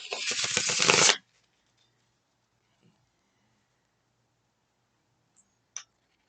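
A quick riffle of cards being shuffled, close and crisp, lasting about a second, then near silence broken by a couple of faint clicks.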